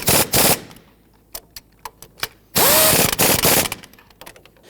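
An impact or ratchet tool tightens the engine mount bolts on a 2011-2019 Ford Explorer. It sounds as loud close rattling bursts mixed with short mechanical clicks, then one long sustained rattling run and a faint whine as it spins down.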